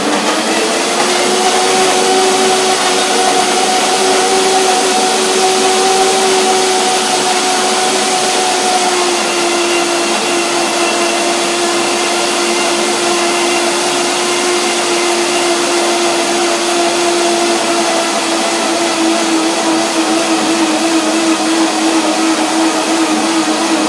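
A kitchen blender whirs continuously while blending cream for a blueberry cake, a loud steady motor drone with a slight pitch drop early on, running alone without pause.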